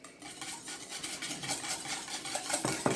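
A whisk working minced garlic, salt and pepper together in a bowl: quick, scratchy metallic stirring and tapping against the sides, close and fairly quiet, with a couple of sharper clinks near the end.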